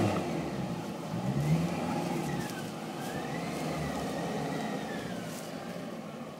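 An off-road vehicle's engine hums steadily at a deep off-road safari course, with a muffled, slightly rising drone running continuously throughout.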